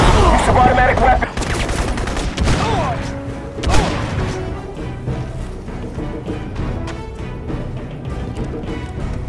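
Bursts of automatic weapon fire in a police-chase video game, rapid crackling volleys and impacts up front that thin into scattered shots and clatter over the final seconds.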